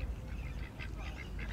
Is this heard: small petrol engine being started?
no